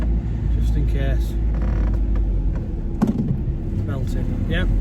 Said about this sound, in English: No grinding noises apart from the steering squeaking.